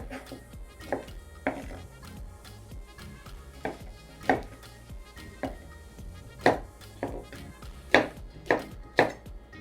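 Okra chopped into rings with a knife on a cutting board, a series of crisp, close knocks at an uneven pace that quicken toward the end, over faint background noise.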